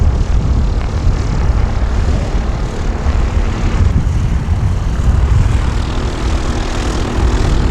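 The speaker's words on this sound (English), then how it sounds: "you can hear we got a jet getting ready to take off" An aircraft engine roars steadily nearby as a jet prepares for takeoff at an airfield, a loud, sustained low drone outdoors behind a building with no one talking.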